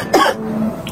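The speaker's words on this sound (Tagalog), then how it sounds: "Umubo ka." A single short cough, close and loud, with a brief throat-clearing quality.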